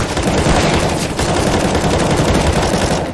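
Rapid automatic gunfire in Counter-Strike: Global Offensive, a loud, dense, continuous burst of shots that fills the whole moment with no pause, close and alone without talk.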